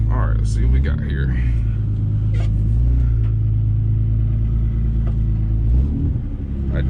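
A BMW E36 sedan race car with a chassis-mounted shifter idles with a heavy low rumble and gets a couple of light blips of the throttle, close and loud, while a person talks over it.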